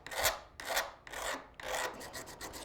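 A file rasps across the rough edges of a copper piece in four distinct back-and-forth strokes, each a close, gritty scraping burst separated by short pauses, with no voices.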